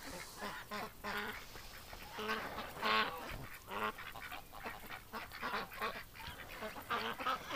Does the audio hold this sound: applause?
no